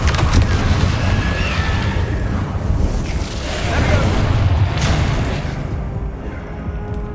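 A Confringo fire spell explodes in Hogwarts Legacy, a loud, sustained rumbling blast that rolls on for several seconds before tapering off.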